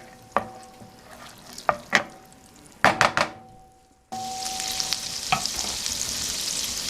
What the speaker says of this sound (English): you let all of that brown up until the garlic is a little bit crispy